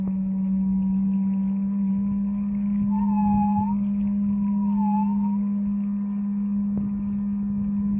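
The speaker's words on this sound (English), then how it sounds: "is the sound of the jet. So it's got a really nice hum to it." A steady, loud low electric hum from a SiFly eFoil jet motor drones throughout, with a faint higher whine that briefly rises and falls over rushing water-like noise.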